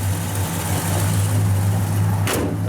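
A 1966 Pontiac GTO's engine idles with a steady low rumble close by, through stock exhaust manifolds and dual exhaust, ending with a brief clunk.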